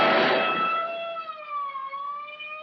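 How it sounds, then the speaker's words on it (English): An ambulance siren wails in a long, rising and falling tone following a brief noisy burst, close and clear with no talking. "It's an ambulance."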